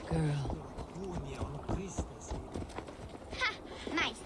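Rhythmic hooves clip-clopping at a gallop in Assassin's Creed Valhalla, mixed with in-game music and effects, with a voice speaking over part of it.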